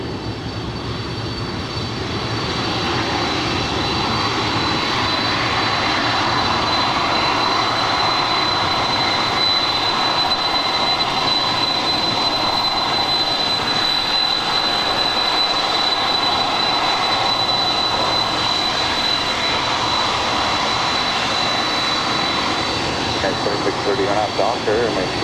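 A United jet airliner takes off from runway 25 right at LAX, a broad, sustained engine roar with a steady high whine that holds loud throughout, heard from a distance with a brief voice at the end.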